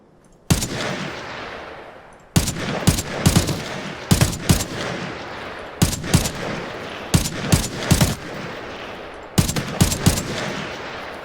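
Gunfire in the shooter game Arena Breakout: loud, close bursts of automatic fire separated by short pauses, each volley a rapid string of sharp cracks, with no talking.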